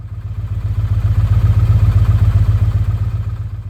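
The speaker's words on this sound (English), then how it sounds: "There she is, chugging away. Love the noise this bike makes." A Yamaha MT-01 motorcycle engine idles close by, its big V-twin chugging in a steady, even low thump for several seconds with no one talking over it.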